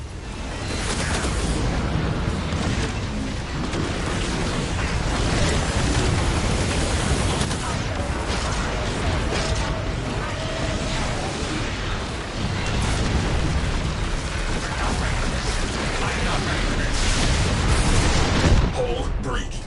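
Warframe torpedo launch and explosions produce a long, dense, roaring wall of blasts and rumble, loud and continuous for nearly twenty seconds with layered bursts throughout.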